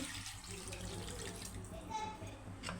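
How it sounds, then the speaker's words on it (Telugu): A glass of water pours steadily into a pan of chicken curry in a close, continuous splashing rush lasting a few seconds, with no talking. "ఇప్పుడు ఒక గ్లాస్ అయితే వాటర్ పోస్తున్నానండి"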